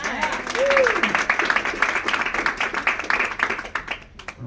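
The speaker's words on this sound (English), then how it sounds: "give them a round of applause" An audience at a book signing and networking event gives a round of applause. The clapping is lively and close, with a voice whooping early on and chatter mixed in, before it tapers off.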